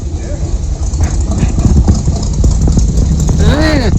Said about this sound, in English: Choke doesn't seem like it's setting, but let it idle.